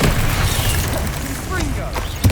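A Bombarda explosion spell goes off in Hogwarts Legacy, a booming game blast over a dense layer of battle effects and other spell sounds, with a sharp burst near the end.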